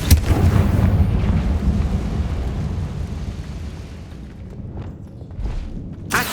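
Confringo blasting spell from Hogwarts Legacy, a loud low explosive boom that rumbles and slowly fades over several seconds, followed by a fresh burst at the end.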